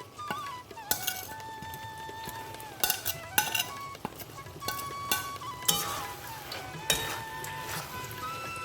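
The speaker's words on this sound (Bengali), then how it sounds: "এটাকে ভালো করে কষাতে কষাতে আমি এর মধ্যে এখন অ্যাড করে দেবো কুড়িয়ে রাখা নারকেল" Banana flower being stir-fried in a pan with grated coconut, with a spatula clinking and scraping against the metal in irregular bursts, fairly faint and close, no talking.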